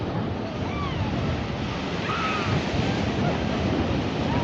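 At night, waves wash onto Eastney West Beach as a constant, even surf roar, with light wind over the shore and no clear breaks between the swells.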